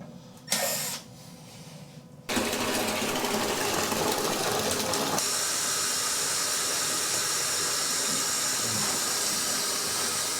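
Water runs and gushes steadily from an overflowing toilet after a gasket reseat, a loud continuous hiss and splash filling most of the clip after brief quieter handling noises at the start.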